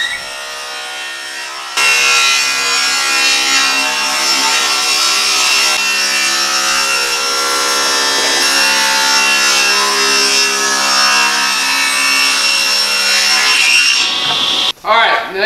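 A saw cuts a wooden board at a 45-degree angle for a cleat, giving a loud, continuous rasping whir close by that starts sharply and runs for about thirteen seconds before cutting off with a brief clatter.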